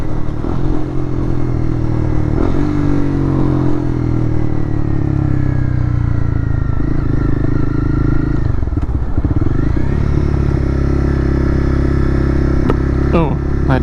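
A Honda CB300R motorcycle engine drones steadily and loud throughout the ride, with shifting revs, some wind and clatter, and a person talking over it.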